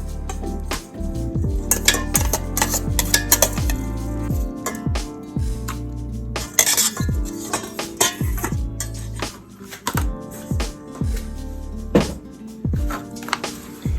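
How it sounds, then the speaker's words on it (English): Drained crushed pineapple is spooned into a baking pan for a cherry-pineapple dump cake, with repeated close metallic scrapes, taps and clinks of utensil on pan in an uneven rhythm, no talking. "We're going to take our crushed pineapple that we drained, and we're going to place that on the bottom of our pan."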